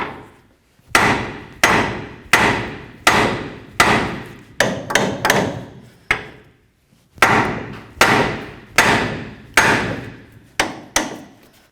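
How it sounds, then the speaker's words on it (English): Repeated hard hammer blows striking a steering knuckle to separate the tie rod end on a 2002-2008 Dodge RAM 1500, loud, close metallic bangs in two bursts of evenly spaced strikes with a brief pause between. "Give this a couple loving bonks until it separates."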